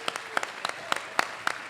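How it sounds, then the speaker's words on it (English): At a community appreciation celebration, a handful of distinct, crisp hand claps ring out in a loose, fairly regular rhythm, sparse rather than a full crowd roar, over a quiet background. "Big round of applause for our members of our Disability Board."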